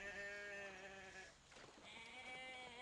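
Goats bleating in the Jurassic Park: Operation Genesis video game while nipping at an Albertosaurus, with two drawn-out, quavering bleats separated by a brief dip, faint and alone.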